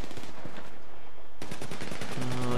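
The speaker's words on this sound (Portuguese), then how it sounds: "tomando tiro de todos os lados" Rapid bursts of automatic gunfire crackle in quick succession in GTA Online, pausing briefly before another loud volley erupts, with game-like echoes and a tonal hum near the end.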